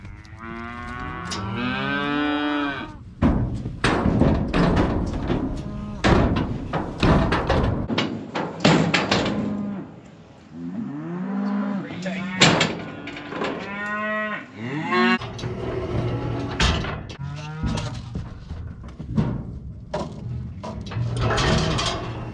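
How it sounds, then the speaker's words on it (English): A bottle calf on a livestock scale moos loudly and repeatedly nearby, with other cattle bellowing and metal gates clanking in between. "On the scale right now, Smokey, one of our bottle calves from this year"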